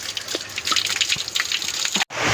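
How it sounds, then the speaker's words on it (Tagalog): Spring water gushes steadily through a channel nearby, a continuous broadband rush with small splashy bursts, briefly cutting out near the end before resuming. "Pakita mo yung tubig na pinadaloy."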